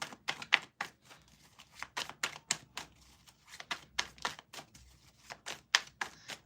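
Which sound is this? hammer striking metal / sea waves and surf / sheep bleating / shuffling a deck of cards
shuffling a deck of cards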